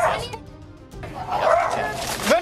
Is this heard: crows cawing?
no